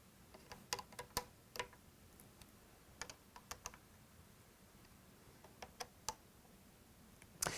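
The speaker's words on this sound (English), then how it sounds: "The cap screws are also going to be torqued to 25 inch-pounds using our TW1 torque wrench." A TW1 torque wrench clicks while scope ring cap screws are tightened to 25 inch-pounds, giving sharp, faint, close clicks in small irregular clusters over a quiet background.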